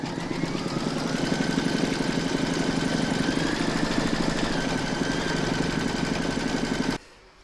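An embroidery machine stitches a fabric coffee coaster held in a hoop, a loud steady mechanical whirr with rapid needle pulsing that runs for about seven seconds and then stops abruptly.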